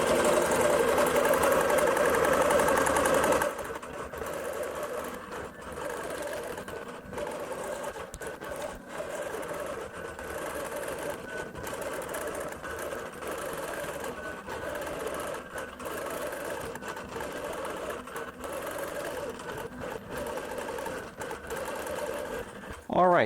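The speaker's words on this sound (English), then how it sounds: "the sewing machine." A sewing machine stitches steadily with a QBOT V3 Pro quilting robot, a loud whirring mechanical drone that softens after the first few seconds and carries on evenly throughout, with no voices.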